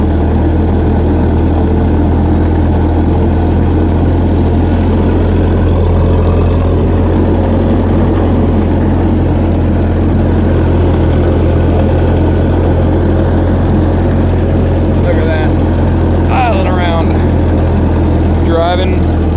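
A cheap old tractor being test driven at night, its engine running with a steady, loud low drone throughout and faint knocking, while someone talks briefly near the end.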